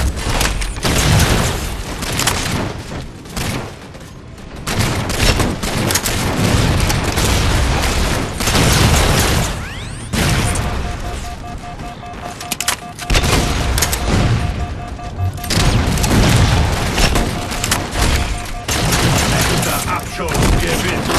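Halo 4 multiplayer combat: loud, relentless bursts of rapid gunfire mixed with heavy booming explosions, continuous and close throughout, with a voice faintly in the mix.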